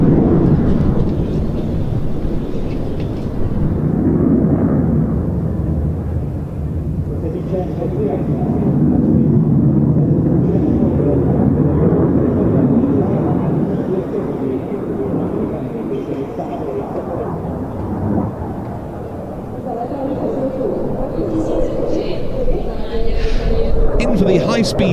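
A military jet makes a high-speed pass at the NATO Days and Czech Air Force Days air show, a loud, sustained rumbling roar that swells and ebbs while an announcer talks over it.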